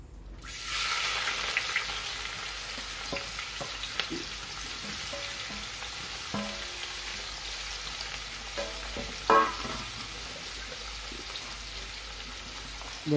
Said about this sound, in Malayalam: ഇനി നമുക്ക് ഉള്ളിയും ഇതൊക്കെ ഒന്ന് വഴറ്റിയെടുക്കാം.